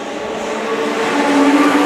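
Legend race cars roar past on the front straight of a circuit, a loud continuous engine drone that swells gradually over the stretch with no pause.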